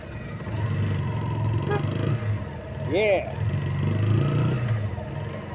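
Motorcycles and four-wheel vehicles drive past on a Good Friday morning at Mapanuepe Lake, Zambales, a mid-range engine hum rising and falling under nearby conversation, with a brief bird-like chirp partway through.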